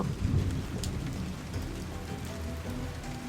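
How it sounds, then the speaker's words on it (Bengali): Heavy rain pours steadily with a deep rumble of thunder rolling underneath, dense and continuous throughout. "বৃষ্টি আরো জোরে শুরু হলো। থেকে থেকে বিদ্যুতের ঝলকানি আর মেঘের গর্জন"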